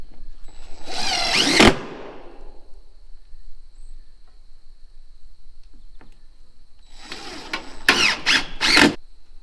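A power drill drives screws into stone siding panels, giving one short whirring burst near the start. Several quick bursts follow later, with a quiet pause in between.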